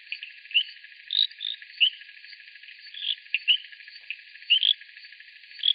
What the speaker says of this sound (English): Crickets, ribbits.